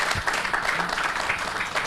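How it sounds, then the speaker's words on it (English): Audience applause at a televised event in Mali honoring an Africa Télévision production crew, a dense, fairly loud continuous clapping wash lasting the whole moment with no talk. "que je demande à tout un chacun d'applaudir très très fort pour Africa Télévision"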